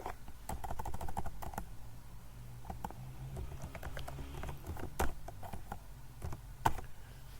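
Keys clatter on a computer keyboard as data is typed in, an irregular close run of soft clicks with occasional harder taps.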